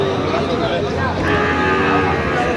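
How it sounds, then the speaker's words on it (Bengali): A Sahiwal bull calf at a Narayanganj farm moos in a drawn-out, fairly loud call close by, with some voices in the background. "ষাঁড় বাচ্চা।"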